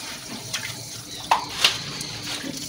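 Steady running tap water while a dummy head's hair is rinsed of shampoo, a soft continuous wash with a couple of brief splashes and clinks.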